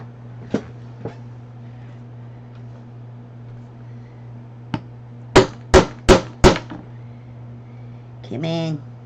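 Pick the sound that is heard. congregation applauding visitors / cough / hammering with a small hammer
hammering with a small hammer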